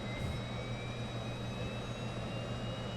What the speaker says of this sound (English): And we'll go ahead and start engine number one.